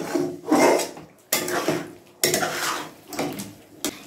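A spoon scrapes and clatters in a pan as chicken is stirred together with yogurt, repeated rhythmic scraping strokes at close range with a few metallic knocks.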